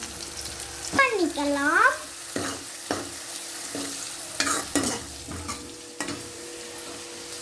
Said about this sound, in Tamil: நம்ம அரைச்சி வச்சிருந்த வெங்காயத்தை போட்டுக்கலாம். பூண்டு போட்டுக்கலாம்.